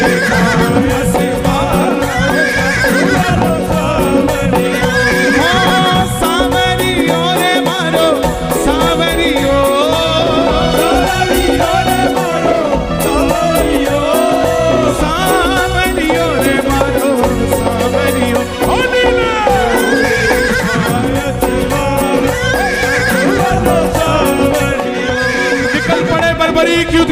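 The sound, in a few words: horse neighing and hooves sound effect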